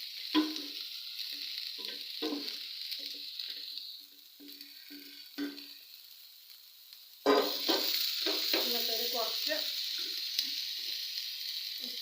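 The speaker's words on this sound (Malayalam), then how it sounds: "അരിഞ്ഞു വെച്ചിരിക്കുന്ന മുരിങ്ങയില നമ്മൾ അതിനകത്തേക്ക് ഇടുവാണേ" Chopped drumstick leaves sizzle as they fry in a pan for muringayila thoran, a steady hiss broken by soft stirring scrapes, growing louder and busier after the leaves go in.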